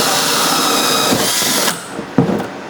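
A power drill whines steadily as it bores a hole through a plastic trash can being made into a chicken feeder, then cuts off, followed by a few dull knocks.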